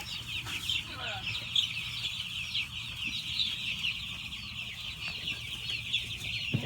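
Backyard chickens cluck softly and steadily at their feeders, close by, with a constant high chorus of birds or insects in the background and occasional rustling.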